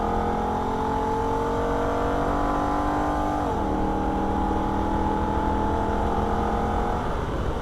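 A Holden VF Ute engine is driven hard on the Nürburgring, its loud steady drone sliding down in pitch at a quick upshift into third gear before it climbs again.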